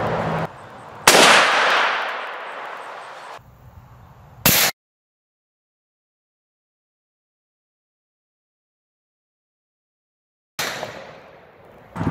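A 140-grain full metal jacket 6.5 Creedmoor round fired from an AR-10 rifle at a cast iron pan outdoors: two loud sharp gunshot cracks about three seconds apart, then silence, then a third sharp blast with a decaying tail near the end.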